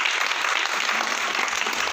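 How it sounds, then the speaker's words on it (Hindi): A crowd claps continuously at a talk or gathering, with dense, even applause at close range and no voices over it. "तालियां।"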